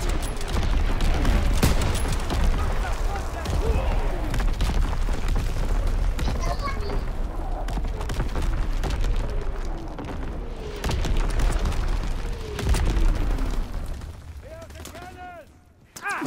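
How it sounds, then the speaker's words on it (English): Gustav cannon artillery in a video game firing a barrage, a dense run of loud booms and blasts with rumbling impacts, and a voice talking over part of it. "Firing for full effect."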